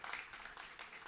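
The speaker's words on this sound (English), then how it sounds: "let's get a round of applause for your Hall of Fame coach of the Noles, Leonard Hamilton" A round of applause greets Florida State basketball coach Leonard Hamilton, a short burst of dense clapping from a small crowd, quiet and without voices.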